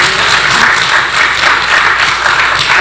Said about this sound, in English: y'all can clap for